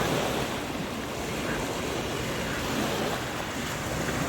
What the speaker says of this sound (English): the waves were kind of high